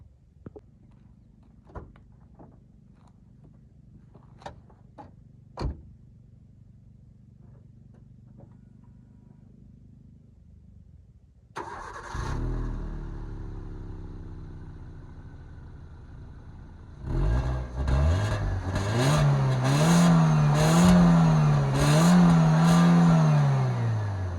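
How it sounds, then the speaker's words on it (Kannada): After quiet clicks and a few knocks, a Maruti Suzuki Swift VXI hatchback's small engine cranks to life and idles, then revs up and down several times. "ಬನ್ನಿ ಮತ್ತೆ ಇಂಜಿನ್ ಆನ್ ಮಾಡಿ ತೋರಿಸ್ತೀನಿ ಯಾವ ಥರ ಇದೆ ಸೌಂಡ್ ಅಂತ"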